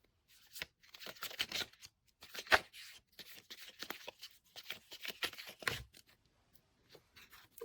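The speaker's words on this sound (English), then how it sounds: "So let's continue with the shuffle." Tarot cards being shuffled by hand in repeated papery riffles and slides, with short bursts separated by brief pauses, close and moderately loud with no talking.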